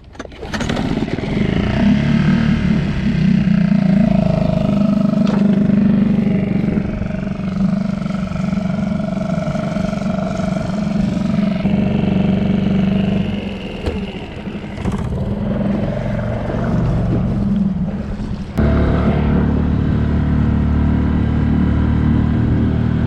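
Outboard motor on a small dinghy droning steadily across open water, loud and close, with a sustained engine hum that shifts in pitch partway through and carries on alone without talk.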